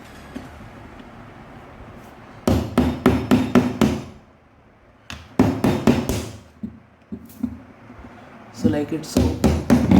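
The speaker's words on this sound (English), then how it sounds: "Now the motor is jammed, so it needs hammering." Rapid hammer knocks on the jammed motor of a 1996 Crompton TransAir 12-inch exhaust fan come in several clustered bursts separated by quiet gaps, close and loud, with someone speaking briefly between them.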